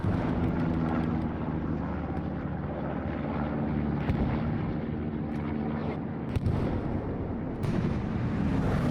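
Aircraft bombing run in the Hell Let Loose World War II game: a loud, steady roar of engines with rumbling blasts that swell and crash throughout, with no voices.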